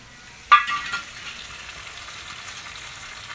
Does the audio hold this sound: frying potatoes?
yes